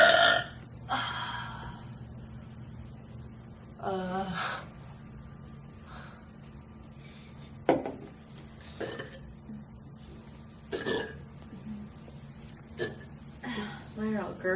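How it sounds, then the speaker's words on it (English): Loud, repeated burps come from people deliberately burping in turn, with bursts spaced irregularly every second or two and some gurgly, drawn-out ones, while speech between them stays close and clear. "Start looking up your assignments and keep burping."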